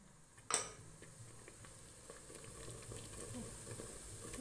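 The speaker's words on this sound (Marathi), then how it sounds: "मोठ्या गॅसवर छान परतत राहायचं आहे" Masala soya chunks are sautéed on a high flame, with a steady faint sizzle of frying under one sharp clink of a utensil near the start, and no speech.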